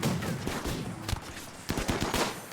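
Gunfire from robot snipers in a video game, a rapid volley of sharp cracks and bursts, loud and dense, with a brief lull before another flurry.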